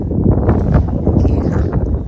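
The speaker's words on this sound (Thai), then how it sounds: "มีลมนะคะก็หนาวอยู่" Wind gusts buffet the microphone outdoors in a cold parking area during garden cleaning, a steady low rumbling roar that swells and dips for about two seconds with no clear talk.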